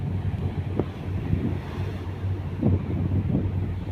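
Strong sea waves and gusting wind buffet the microphone aboard a ro-ro ferry during heavy rain, a steady low roar with surging swells washing past, no voices heard.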